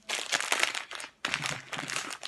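Oreo cookies are crushed inside a plastic bag, producing two bursts of loud, close crinkling and crunching plastic separated by a brief pause.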